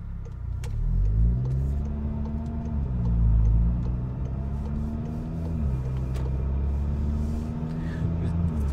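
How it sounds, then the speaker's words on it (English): A 2018 VW Golf R MK7.5 with a Stage 1 ECU tune cruises smoothly, its engine a steady low rumble inside the cabin with gentle rises in pitch as it accelerates, constant road noise underneath and no talking. "Car is driving pretty smooth overall"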